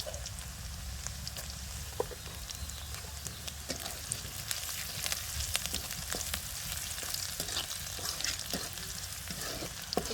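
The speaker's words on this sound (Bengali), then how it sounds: "ফোড়নটা ভালো করে ভেজে নিতে হয়" Whole spices frying for a phoron tempering crackle and sizzle in hot oil, with dense sharp pops and spatters over a steady hiss, close and fairly quiet, no talking.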